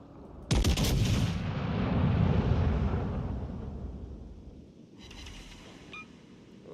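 Naval gunfire from a warship in World of Warships Legends: one loud, close broadside blast with a long rumbling roll and wind-like wash, then a quieter second burst of firing in the distance.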